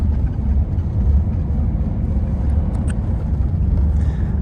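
A 1986 Mercedes 560SL on a drive, heard as a steady low engine and road rumble throughout, with faint interior rattles and no speech.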